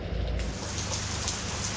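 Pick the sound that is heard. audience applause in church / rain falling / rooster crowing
rain falling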